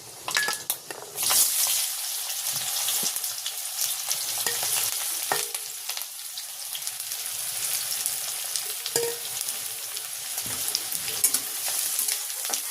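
Black mustard seeds, curry leaves, chopped onion and green chili fry in hot oil, a steady bright sizzle running throughout with stirring scrapes and occasional pops, close and fairly loud.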